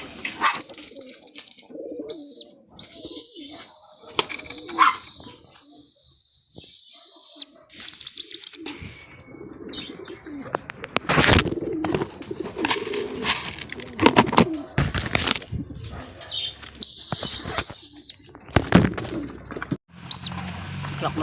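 Racing pigeons coo repeatedly nearby at a race finish, with a steady high-pitched whine over the first half and scattered rustling and wing flaps later on.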